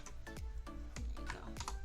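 Typing on a computer keyboard during an animal adoption website update, a steady run of close, crisp key clicks with an uneven rhythm, quiet and without talk.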